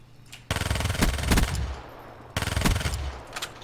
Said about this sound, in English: That was a lot of gunfire we just expelled.